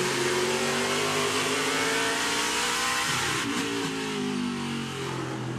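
A NASCAR Craftsman Truck Series race truck at the Charlotte ROVAL roars steadily near the microphone, its engine pitch dropping through a couple of quick downshifts as it brakes into a corner, then pulling hard again.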